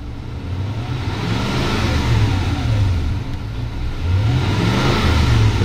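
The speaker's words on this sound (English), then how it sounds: "Here we go again and I will give it some revs." A Toyota Sequoia's iFORCE 4.7-liter V8 engine is revved up and down nearby, a loud rising and falling drone with no talking.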